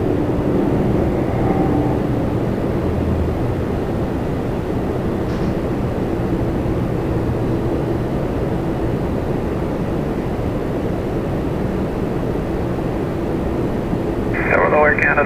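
An airplane at Toronto Pearson airport on runway 24 right, a loud sustained engine roar and rumble filling the scene, with radio voices talking over it.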